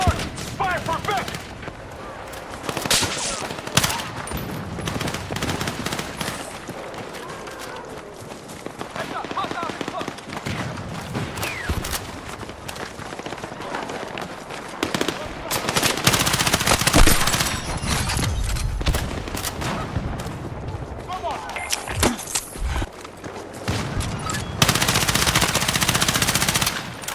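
Rapid automatic gunfire and scattered shots in the video game Battlefield 6, dense bursts running continuously under game voices and player speech, loud and close with louder volleys toward the end.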